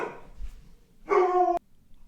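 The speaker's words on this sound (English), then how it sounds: "my dog was going crazy right there" A dog barks once, close and fairly loud, in a short harmonic yelp that follows a stretch of quiet room noise and cuts off sharply.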